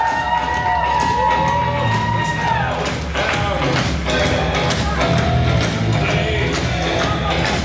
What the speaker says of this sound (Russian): Игорь, под ваши аплодисменты!